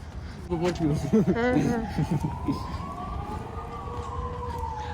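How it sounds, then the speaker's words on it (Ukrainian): A wailing air-raid siren in Ukraine rises and falls in slow, sustained sweeps, fairly distant, following a few seconds of people talking nearby over street noise. "Ось вам і сирена"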